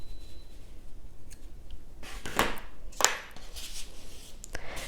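Scissors snip the yarn tail of a crocheted potholder: two quick close cuts in the middle of a soft, quiet room hush with light handling noise.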